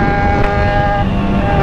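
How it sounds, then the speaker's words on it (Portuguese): An XJ1 motorcycle engine roars steadily at high speed on the road, a loud, sustained droning tone with wind rush, close and unbroken. "Você é louco, tio, a motoca tá berrando"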